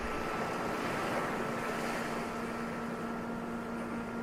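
Ocean surf on the Pacific coast makes a steady, broad wash of water, with wind rumbling against the microphone and a faint constant hum underneath.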